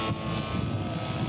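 Scale model PBY flying boat in flight at an aircraft show, a steady droning propeller engine hum that holds level throughout the brief moment.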